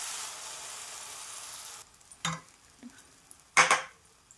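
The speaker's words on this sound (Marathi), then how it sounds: "मस्त भाजून घेणार आहोत" Food roasting with oil on a hot griddle, a soft hiss that fades out partway, followed by a few distinct clinks and scrapes of a utensil against the pan, the last one louder.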